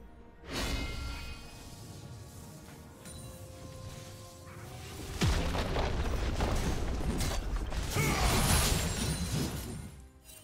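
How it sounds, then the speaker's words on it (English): A turret being destroyed in League of Legends, a loud crashing boom with whooshing debris that swells midway into a sustained, dense rumble before cutting off, layered over game effects. "Turret has been destroyed."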